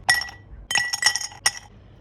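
Ice cubes dropping into a glass, three bright clinking bursts with short pauses between them, close and fairly loud, with no voices.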